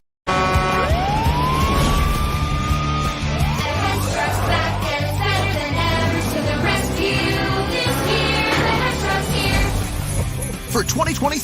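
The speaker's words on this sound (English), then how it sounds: "it's the Hess Police Truck and Cruiser with realistic sirens, multi-patterned lights, rotating spotlights" Hess Police Truck and Cruiser toy, 2023 model, sounding its realistic electronic sirens, a rising wail then rapid yelping patterns, loud and continuous under a music bed with a narrator's voice.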